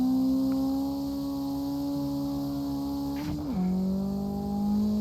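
A car engine in the CarX Drift Online driving game holds a steady, loud, buzzing full-throttle drone through a drift, with a brief dip and drop in pitch as it downshifts, then revs on.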